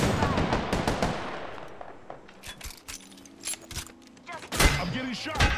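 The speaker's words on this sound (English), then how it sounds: "I'm getting shot." Gunfire in the Apex Legends shooter game, sharp bursts of automatic shots and impact crackles, loud at the start and again near the end, with quieter spells between.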